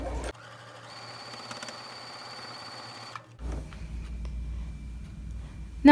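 A sewing machine stitching quilt blocks for a wonky star quilt, running in one steady, fast mechanical whir for about three seconds, then stopping, with quieter handling noise after; close and unaccompanied by talk.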